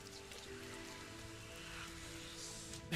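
Steady rain falls throughout in the game RIME, a dense even hiss of drops on surfaces with faint tonal game music underneath and a brief louder patter near the end.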